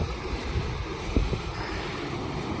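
Creek water rushes through a canyon at Lower Grape Creek, a steady broadband roar mixed with wind buffeting the microphone and a few low thumps, with no voices.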